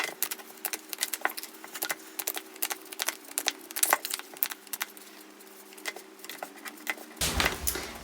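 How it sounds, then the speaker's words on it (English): Tarot cards are shuffled in a run of soft, quick riffling taps and clicks, close and fairly quiet, ending in a louder rustle of cards. "So let's shuffle the cards and see what comes through."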